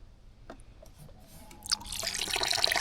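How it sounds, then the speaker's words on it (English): Water from the blue pipe of an ITEHIL water filter starts with faint drips and then builds into a steady, splashing stream over the last second, close and growing louder. "at the moment I'm only getting water from the blue pipe"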